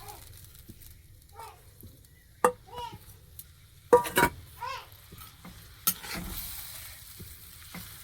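Fish cooking in a pan with a little added water, with a soft simmering sizzle broken by sharp clinks of a utensil against the pan and brief bits of voices in the background.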